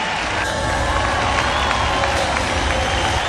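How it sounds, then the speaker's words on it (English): Audience applause and cheering at a beauty pageant, a dense steady wash of clapping and crowd noise filling the hall, loud throughout with no break. "A round of applause to Brazil."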